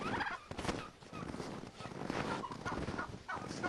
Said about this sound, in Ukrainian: І головний індик, як завжди, ззаді